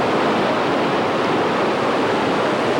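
Iguazu Falls waterfall roaring as a dense, steady broadband rush of water, loud and continuous without pause.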